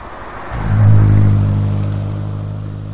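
A motorbike engine rides along country roads on the way to Chiang Rai. Close and loud, a steady hum swells into a strong throttle rise about half a second in, then holds a droning rev that slowly eases, with no talking.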